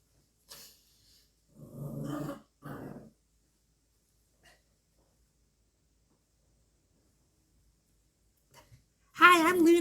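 A dog named Luna gives a few short, gruff growl-like bursts close to the microphone, separated by near silence, then a louder whining yelp at the end.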